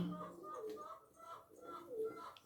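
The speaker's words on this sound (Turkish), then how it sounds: "Bu bizim çahçülümüz arkadaşlar. Kara çahçülü." A black çahçül pigeon coos softly in a short series of low, rounded calls close by, with quiet background noise between them.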